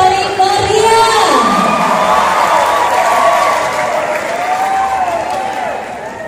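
Crowd at a welcoming ceremony for a cultural dance competition cheers, whoops and applauds steadily and loudly, with children shouting and voices mixed into the continuous roar, which fades slightly toward the end.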